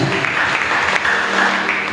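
Church congregation breaking into steady, dense applause, a continuous even wash of clapping from a large room lasting about two seconds with no voices over it.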